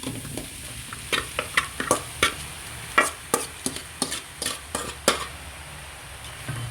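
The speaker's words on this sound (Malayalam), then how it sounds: "ചിക്കൻ ഇട്ട് നല്ല രീതിയിൽ വഴറ്റണം" Cooked chicken stir-fried with onions in a pan, a soft sizzle under repeated sharp scrapes and clinks of a spatula against the pan in an uneven rhythm, close and clear.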